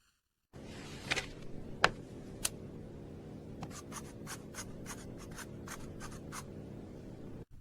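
A pen scratches across a paper form in a quiet room as symptoms are written in, with steady close writing strokes and several short sharp taps and ticks.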